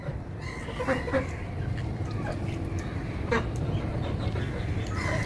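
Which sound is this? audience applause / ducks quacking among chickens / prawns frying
ducks quacking among chickens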